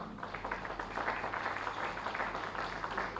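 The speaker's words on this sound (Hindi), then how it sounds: "आप सभी तालियों से उसका स्वागत करें।" Steady, moderately faint applause spreads through a hall at the launch of the four-volume book 'Bharatiya Bhashaon Mein Ram' by the Ayodhya Research Institute, many hands clapping in an even, continuous patter over a low background hum.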